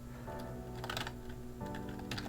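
Java code being typed on a computer keyboard, a quick run of close, soft key clicks over a faint steady background hum.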